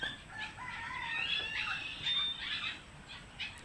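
Roosters crow and chickens cluck in a steady outdoor chorus, several birds calling over one another at moderate distance.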